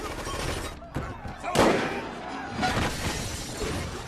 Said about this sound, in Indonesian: Namun di tengah baku tembak, Goy, Wick, dan John ikut campur